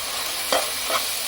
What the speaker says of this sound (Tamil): இதோட மசாலா வாசம் போகிற வரைக்கும் வதக்கிட்டு